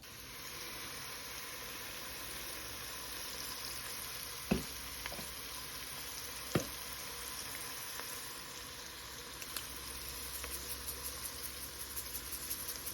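Minced garlic, red pepper flakes and seasoning frying in a pan give a steady, quiet, even sizzle, broken by a few sharp clicks of utensils against the pan.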